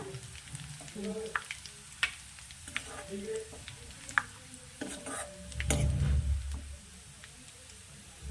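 Peas and eggplant fry in a pan with a steady soft sizzle, punctuated by scattered clicks and scrapes of a spoon stirring against metal, rising into a louder crackle midway, while a voice speaks intermittently nearby.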